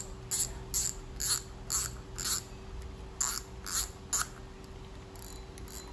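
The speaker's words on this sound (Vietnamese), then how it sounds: "Đây là tiếng lưỡi gà của con này nha mọi người." Clicker ratchet of a Japanese spinning fishing reel, a Shimano Ultegra or Daiwa, being turned, giving about nine quick bursts of crisp mechanical clicking with short pauses over a faint steady hum.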